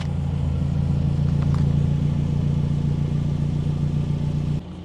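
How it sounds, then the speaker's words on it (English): A 2024 Toyota Tacoma four-cylinder pickup with an aftermarket MagnaFlow exhaust idles with a steady, low droning rumble, close up and continuous, dropping off slightly at the end. "We'll take a listen to the exhaust."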